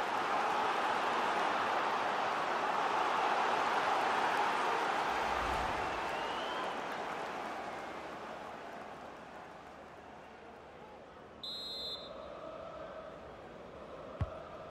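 Stadium crowd noise in the FC 24 football video game during Fulham vs Manchester United, a broad roar that swells and then slowly fades, with a brief whistle-like tone near the end.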